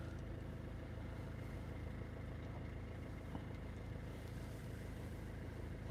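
A Peugeot 5008 1.5 HDi diesel (2020, 180,000 km) idles with a steady, low engine rumble at a constant level, with no speech and no change in pitch throughout.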